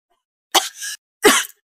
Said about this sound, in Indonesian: Batuk-batuk.